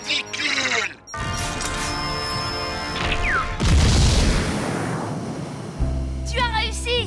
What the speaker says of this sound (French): Tu as fait exploser Proto-Boy!